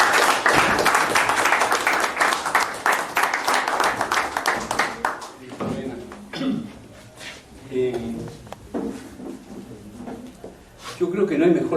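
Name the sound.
audience applause welcoming a speaker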